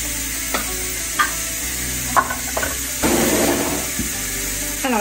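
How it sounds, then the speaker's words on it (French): A machine mixes water with yeast for pizza dough: a continuous whirring churn with a few sharp knocks and a brief swell of sloshing near the middle. "il va bien mélanger l'eau avec la levure pour que ça se dessout bien pendant 20 secondes"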